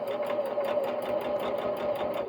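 A sewing machine runs steadily and loudly nearby, its rapid, even stitching rhythm and motor whine continuous as it sews over fabric-wrapped rope for a rope bowl.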